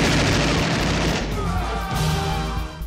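Gunfire in a movie shootout, with shooters firing from up on a hill: a dense, loud burst of rapid shots rolls on continuously for about three seconds.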